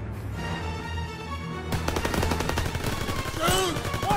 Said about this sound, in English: Sniper, that's who's shooting me.